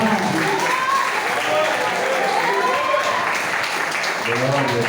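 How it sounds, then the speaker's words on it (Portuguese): A church congregation applauding, a dense, sustained wash of clapping hands filling the room at a steady loud level, with a voice speaking over it. "Dê uma salva de palmas para Deus"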